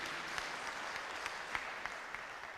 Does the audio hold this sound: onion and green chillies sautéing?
no